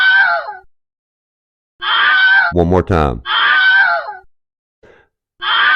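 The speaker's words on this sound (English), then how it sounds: "That's the Wilhelm scream." A dramatic, high-pitched scream sound effect bursts out once, loud and close, between stretches of a cat-like wailing call, with a brief spoken phrase overlapping it.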